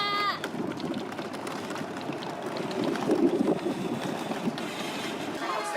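A boat on the sea heading out for snorkelling carries a steady broadband wash of engine and water noise with wind buffeting, loud and continuous throughout, with faint bird calls near the start and end.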